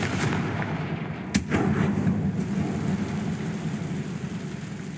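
A Confringo blasting curse explodes in Hogwarts Legacy, one sharp loud boom followed by a low rumbling tail over steady game ambience.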